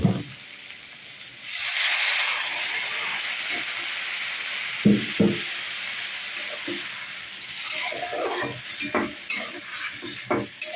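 Water poured into a hot pan of bitter gourd, fish head and potato curry sets off a loud burst of hissing steam, then stirring scrapes and clacks over a continuing sizzle.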